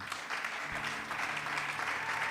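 A church congregation claps and cheers at a Sunday service, giving a steady, dense wash of applause that holds at one level from start to end.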